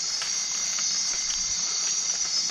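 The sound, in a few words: rain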